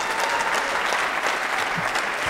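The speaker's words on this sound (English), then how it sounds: "And now one more round of applause for the whole group." Steady applause from a university fall concert audience honoring a band, dense clapping throughout with no gaps.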